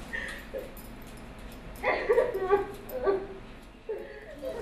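A dog whimpers and yips in short, high, plaintive bursts, moderately close, rising in two clusters over a quiet background.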